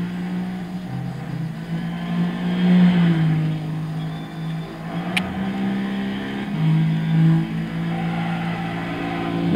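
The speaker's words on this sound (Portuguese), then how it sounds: "Sinto o belo ronco do VQ." A Nissan Fairlady Z (350Z) with its 3.5-litre VQ V6 engine, driven in Gran Turismo 6 on the Haig Hogarth track, giving a loud, steady, droning engine roar that rises and falls slightly with throttle.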